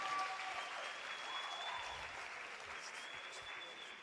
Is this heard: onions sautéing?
no